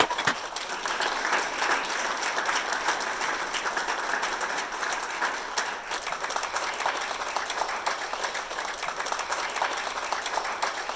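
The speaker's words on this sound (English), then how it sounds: "Let's give them applause." Steady, dense applause from a commencement audience honoring standing graduates, sustained at even strength throughout with no break.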